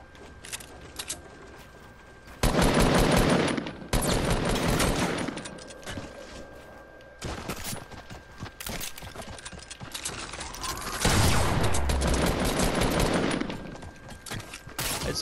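Gunfire in a shooter video game: loud, dense bursts of rapid automatic fire, some stretching several seconds, with quieter mechanical clicks and rattles between volleys. No one talks.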